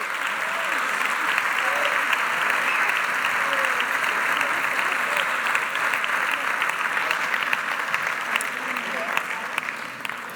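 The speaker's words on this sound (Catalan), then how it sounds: "Un fort aplaudiment també per la Mònica," Steady, dense applause from a theatre audience fills the whole stretch at an even, full level, sustained without a break or lull, with no voices rising above it.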